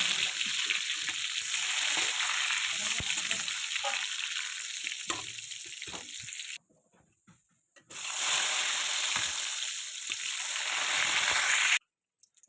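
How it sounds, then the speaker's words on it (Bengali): Eggplant slices fry in hot oil in a wok with a loud, steady sizzle and crackle, close up. The sizzle drops out briefly twice, then resumes just as strongly. "কড়াই গরম হয়ে গিয়েছে, তেলও গরম হয়ে গিয়েছে। আমি এখন বেগুনগুলি দিয়ে দেবো।"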